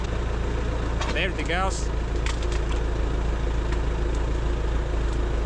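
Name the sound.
tractor engine idling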